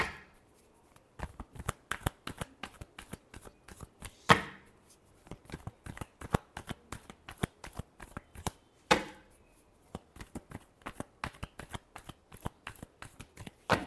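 Tarot cards are shuffled in quick riffling bursts, a rapid series of crisp papery flicks repeated in rhythmic runs, close and clear with no talking.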